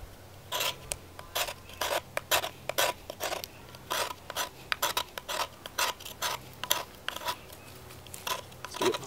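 A knife blade is scraped in repeated short, rasping strokes, about twenty of them in a steady back-and-forth rhythm, close and fairly loud with no voices.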